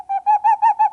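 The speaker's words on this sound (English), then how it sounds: "Gray owl." A great grey owl gives a series of five evenly spaced, low hooting notes, clear and close, with silence around them.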